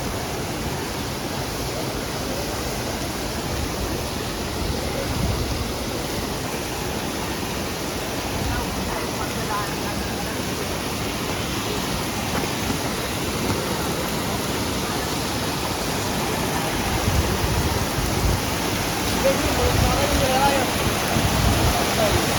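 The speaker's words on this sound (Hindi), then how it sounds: "पानी देखिए कैसा कल कल बह रहा है, और ये देखिए ठंडा पानी।" Cold water of the Ban Ganga stream on the Vaishno Devi route rushes by in a steady, loud, broadband roar that stays constant throughout with no break.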